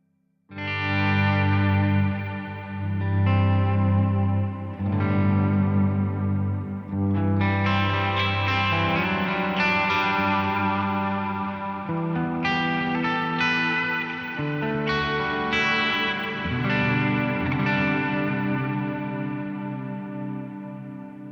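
An electric guitar through a Hotone Ampero II plays sustained chords and melodic lines, thickened by a shimmering Liquid Dream chorus with vintage rack delay repeats and a wide Cloud reverb tail, steady and loud throughout.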